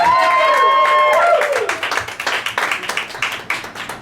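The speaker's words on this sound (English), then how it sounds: "Give me an applause break because I need to drink this drink." Audience applause at a live stand-up comedy show, starting over a lingering whistle-like tone and then breaking into a burst of close, uneven hand clapping that thins out in scattered claps.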